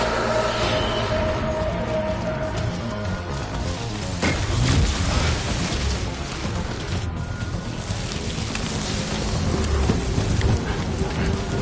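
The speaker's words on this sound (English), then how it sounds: "It's raining." Steady heavy rain pours throughout with rumbling thunder underneath, a louder crack of thunder rolling in around midway, in the video game Death Stranding.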